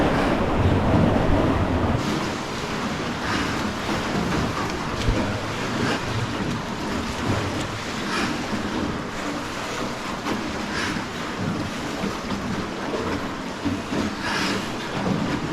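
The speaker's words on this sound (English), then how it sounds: "It's very loud in here with all these other boats and people in here and the water rumbling against the rocks." Inside a river cave in Ninh Binh, water rumbles and churns against the rocks while rowing boats and crowds of people pass through, a loud, continuous, echoing roar without clear speech.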